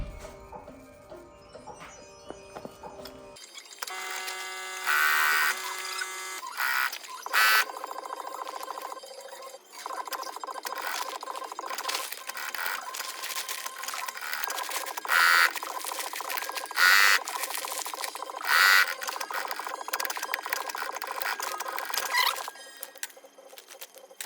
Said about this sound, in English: we're going to be stitching right down the tight edge here onto this